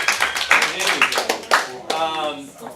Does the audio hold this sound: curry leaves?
no